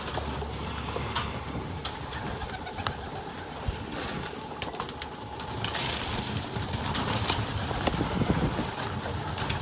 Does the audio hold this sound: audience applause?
no